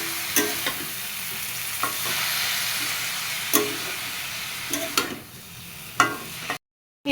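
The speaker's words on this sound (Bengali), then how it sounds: "এবার এর ভিতরে শাকগুলো দিয়ে দিলাম।" Greens added to a frying pan and stirred while cooking shukto, a mixed-vegetable curry; a steady sizzle and hiss with repeated scraping and clattering stir strokes, close and moderately loud, ending abruptly.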